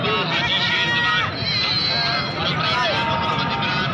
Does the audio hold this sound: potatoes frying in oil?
no